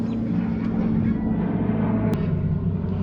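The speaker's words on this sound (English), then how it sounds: "that plane passed over, but it's functional and it does the job" An airplane passes overhead above a backyard, a steady low rumbling drone that holds evenly loud throughout without talking.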